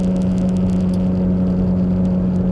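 Steady engine hum and road rumble from a car driving through the sharp curves of Sweetwater Valley, Tennessee, heard close and continuous from inside, with a constant low drone and no talking.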